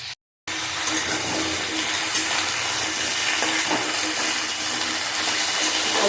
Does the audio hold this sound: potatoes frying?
yes